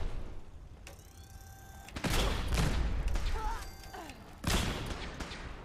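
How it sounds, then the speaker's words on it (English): A pulse rifle in Fallout 4 fires sharp energy blasts, with a loud crackling discharge at about two seconds, electronic whines and beeps around it, and a second heavy blast near the end, over faint talk. "Okay, this is that pulse rifle."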